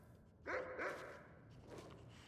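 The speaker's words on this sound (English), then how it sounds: "Dogs. I didn't know we had dogs." A couple of armored dogs in modded Skyrim give a short pair of faint, quick barks or yips, soft and somewhat distant over a low background hum.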